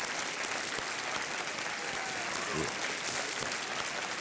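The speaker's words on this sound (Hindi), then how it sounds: "तालियां बजती रहें देवियों सज्जनों" A studio audience on the KBC quiz show applauds, a continuous, full roar of clapping that stays loud and even throughout, with a brief voice surfacing midway.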